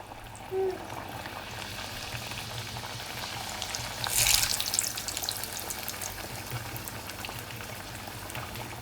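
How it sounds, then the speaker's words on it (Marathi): Malvani chicken vade dropped into hot oil fry with a continuous bubbling crackle, swelling briefly louder midway with a burst of spattering, then settling back to a steady sizzle, with no talking. "आता आपण एक एक वडे गरम तेलात हलक्या हाताना हलक्या हाताने सोडून घेऊया"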